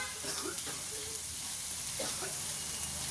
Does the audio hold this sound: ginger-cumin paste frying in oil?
yes